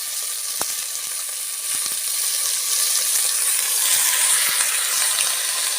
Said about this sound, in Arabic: انا بحب ان انا الوح او اشوح او ادي صدمه كده للفراخ